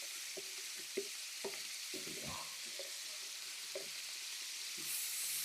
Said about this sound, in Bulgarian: Сега ги запържваме и тех лекичко.